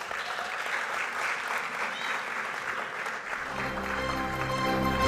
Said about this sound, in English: A round of applause for Hasita and her team as they come on stage.